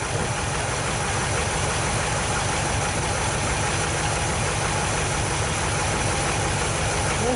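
A 1973 Dodge D100 engine runs steadily after its first start in ten years, a loud, continuous idle with a rhythmic low-end pulse and faint mechanical knocking throughout.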